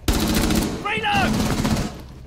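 Close automatic gunfire in Rainbow Six Siege, a sharp burst of rapid shots opening loud and rattling for under two seconds, with a brief voice in the middle.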